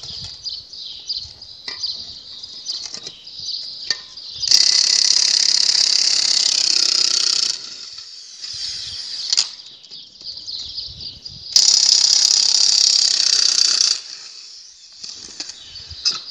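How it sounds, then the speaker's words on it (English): A Milwaukee impact gun removes bolts from the hub of a Bute D Series disc chain, giving two loud sustained rattling bursts of a few seconds each, separated by quieter mechanical clicks and whirs. "we use a Milwaukee impact gun, right?"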